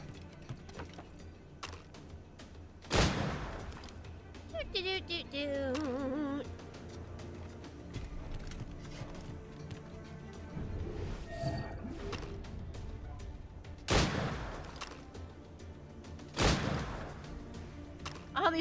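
Gunfire in the video game Assassin's Creed Rogue, a few loud sharp bursts spaced several seconds apart over a busy background of game sounds and scattered clicks.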